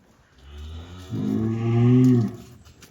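A heifer gives a long, low moo that swells and then fades, nearby, over quiet background.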